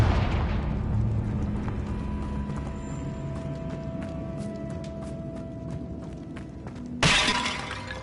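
Confringo fire spell blast in the Hogwarts Legacy video game: a sudden loud burst near the end, after a stretch of steady game ambience with faint hums and scattered clicks.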